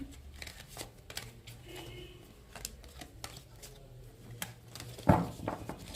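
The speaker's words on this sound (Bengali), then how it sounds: "এখান থেকে আমরা 3টে কার্ড নেব।" Playing cards being drawn one by one from a deck for a tarot-style reading, giving a string of light papery flicks and snaps, close and fairly quiet, with one sharper slap near the end and no talk.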